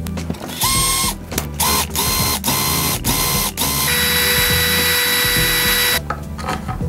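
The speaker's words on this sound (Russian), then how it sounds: "Я просто здесь сейчас вкручу два болта" Power drill driving two bolts through washers into a homemade device built from scrap, close and loud, with several short bursts of whirring and ratcheting followed by a longer sustained run.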